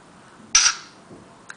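An NGM Supreme dual SIM 3G phone camera fires a single short synthetic shutter click, sharp and close, followed by quiet and a small second blip near the end.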